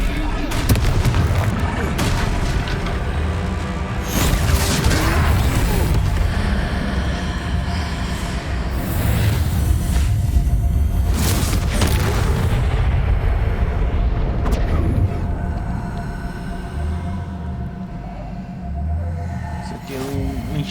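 Heavy booming blasts in Hogwarts Legacy from a Confringo fire spell during a troll fight, loud rumbling explosions repeating over a dense battle din, with voices speaking intermittently over the noise.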